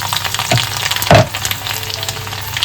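Garlic fries in oil in a kadhai after mustard seeds, with a steady sizzle, flaring into a couple of louder spitting bursts partway through.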